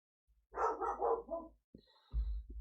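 A dog barks in a short burst of several loud, close barks from inside a house, followed after a pause by a couple of quieter yips and thumps.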